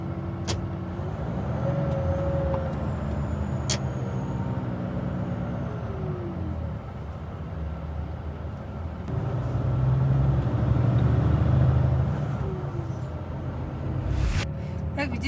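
Car driving through a town, with a steady engine and road rumble throughout, swelling slightly midway, and a few brief clicks and knocks from inside the vehicle.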